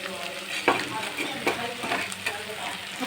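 Boiled potatoes being stirred into onions frying in a pan for a palak dish, a steady sizzle broken by a few sharp spoon scrapes and clinks against the pan.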